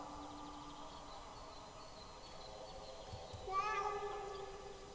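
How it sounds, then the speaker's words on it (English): A cat in the video game Kentucky Route 0 meows down a sinkhole, a single faint meow rising late over a steady ambient game backdrop. "And the cat can meow down the sinkhole."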